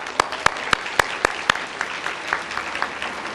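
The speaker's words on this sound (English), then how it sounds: "Let's give them a round of applause." Applause at a volunteer recognition luncheon: a handful of sharp, loud individual claps near the start, then a lighter, scattered ripple of clapping from the room that thins out.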